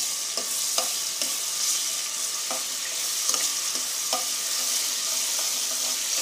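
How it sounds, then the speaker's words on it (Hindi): Ginger and garlic fry in a pan for a curry pakora dish, giving a steady close sizzle with occasional stirring clinks and scrapes and no talk. "अदरक और लहसुन दोनों को हम थोड़ा सा भून लेते हैं।"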